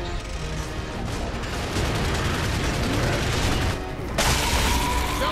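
Gunfire from a shooter video game, with a continuous crackle of shots and a sharp, louder blast near the end that fits a sniper rifle firing.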